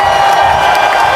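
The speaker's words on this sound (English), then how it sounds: "Daisy, big round of applause" A school assembly crowd gives a loud, steady burst of applause and cheering for a pupil, dense and close throughout a brief moment.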